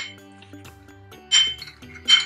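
Utensil clinks against a bowl while avocado-based ingredients are stirred, with light scraping and tonal ticks building to two louder, bright clinks near the end; close and alone, no talk.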